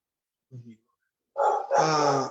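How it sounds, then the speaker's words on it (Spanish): A nearby dog gives a short, low bark, then a louder burst of barking or growling follows, heard alone without talk over it. "perdón, tengo un perro ahí cerca"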